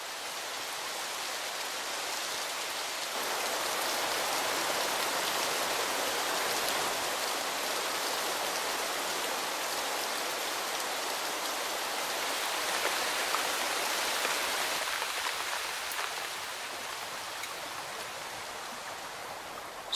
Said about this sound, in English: within minutes of a rainstorm, towering waterfalls are born.